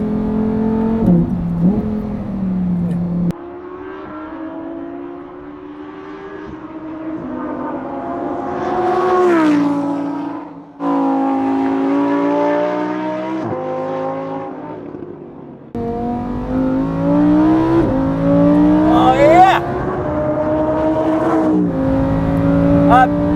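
Lamborghini Huracan EVO accelerating hard in sport mode, its engine rising through several gears in long climbing howls broken by abrupt shift drops, loud and close, with a driver's voice heard at moments.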